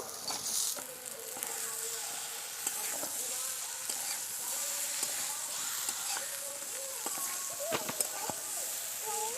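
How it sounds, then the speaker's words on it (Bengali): Oil sizzles steadily in a pan as fried khalse fish are added with spices, while a utensil scrapes and clinks against it now and then; a constant hiss under intermittent stirring knocks. "এবারে ভাজা খলসে মাছগুলোকে দিয়ে দেব"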